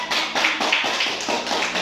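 A classroom group claps for a student group after their presentation in a teaching-practice session, with uneven bursts of close, bright hand claps running through the short clip and no talking.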